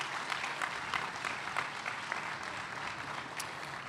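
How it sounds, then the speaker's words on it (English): Steady applause from an audience at a port rail facility groundbreaking, an even crackling wash of clapping lasting the whole stretch without talk. "Let's give the governor and his entire team a big round of applause."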